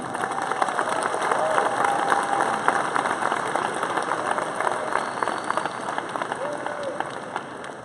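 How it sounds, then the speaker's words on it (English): A graduation audience claps for the students' parents and families. Dense, sustained applause from a large crowd fills the whole stretch at an even level. "giving your parents and your families a round of applause"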